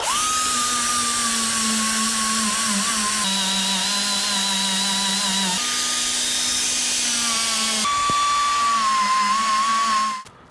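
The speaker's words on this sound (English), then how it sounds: "I try to use this die grinder, which is what I used on the other side" A die grinder fitted with a Scotch-Brite scouring pad strips tape from a cracked Pontiac Firebird bumper. A steady, high-pitched motor whine runs the whole time, its pitch shifting slightly as pressure changes, then cuts off at the end.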